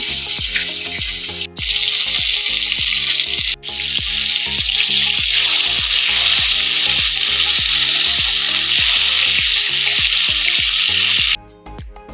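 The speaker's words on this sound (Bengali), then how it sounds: "বন্ধুরা দেখুন আমি এই একটা ভেজে নিচ্ছি সেম একইভাবে আমি সবগুলোকে ভেজে নেব" Pieces of lote fish, or Bombay duck, frying in hot oil make a loud, close, continuous hiss and crackle, broken by two brief dips and fading near the end.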